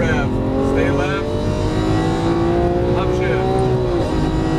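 A Lamborghini Aventador LP700-4 on a Las Vegas racetrack roars loudly and steadily, its engine note climbing and then dipping, under a driving instructor's continuous coaching.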